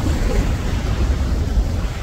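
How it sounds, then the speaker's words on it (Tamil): Forceful water gushing from Salaulim dam in South Goa during the monsoon, a loud continuous roar of rushing water with wind buffeting the microphone, no voices. "பாருங்க, வலுவாக இருக்குது, வேற மாதிரி தண்ணி ஊற்றுது."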